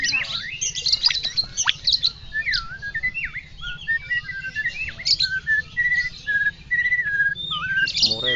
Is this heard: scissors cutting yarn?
no